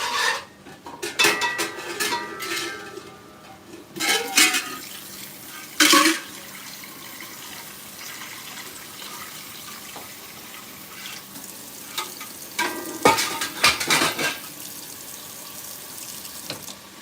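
Oxtail is stirred in a pot in a home kitchen, giving scraping, rubbing and clinking sounds that come in uneven bursts with quieter gaps, close by and without talking.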